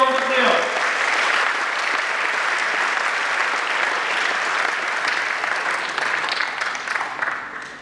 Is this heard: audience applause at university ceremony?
yes